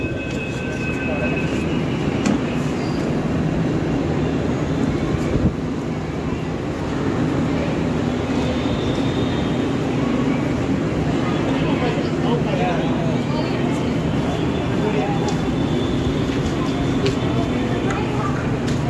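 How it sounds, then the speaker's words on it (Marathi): Pune metro train at Ramwadi station, a steady loud rumble and hum of the train running through the whole stretch, with people talking over it. "हे आहे रामवाडी रेल्वे स्टेशन आणि ही आहे आपली मेट्रो"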